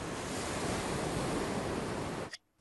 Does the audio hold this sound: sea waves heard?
yes